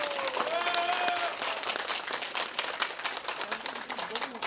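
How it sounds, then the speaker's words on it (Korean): An audience applauds steadily in a dense wash of clapping, with some voices mixed in underneath. "박수 한번 쳐야 됩니다."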